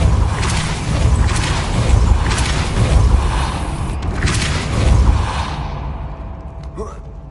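A Depulso spell cast in Hogwarts Legacy, heard as loud, broad whooshing bursts that swell and fade several times over a dense game soundscape, with a voice speaking briefly.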